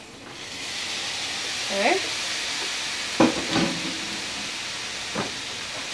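Ground turkey with green pepper and onion sizzling steadily in a hot pan, a constant frying hiss with a few brief clanks of utensils, and a short spoken word in between.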